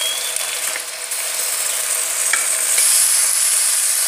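Onions and tomatoes fry in hot oil in a kadhai, giving a steady, dense sizzle with a few clicks and scrapes as the mix is stirred, fairly loud and close, with no talking.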